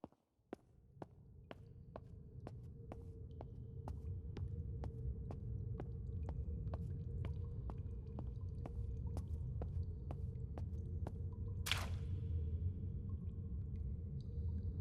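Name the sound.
water dripping in the video game Vein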